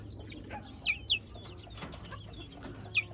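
Backyard chickens clucking nearby, a few short sharp calls in quick succession followed by another single call, over a quiet outdoor background.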